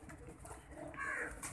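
Cooing from a breeder pair of pigeons, a low murmuring call that swells briefly near the end, close by and without voices.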